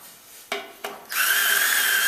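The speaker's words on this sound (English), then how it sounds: "I'm just going to tap them by hand and I'm going to deburr them" Two sharp metallic clicks, then a high, steady tool whine as holes in a fabricated rear axle housing for a pickup are tapped and deburred, close and moderately loud, with no voices.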